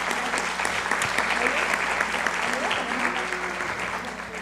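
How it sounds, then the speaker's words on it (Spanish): An audience at a formal panel event applauds for an honoree: dense, steady clapping from many people, loud at first and tapering slightly toward the end. "Un aplauso, por favor."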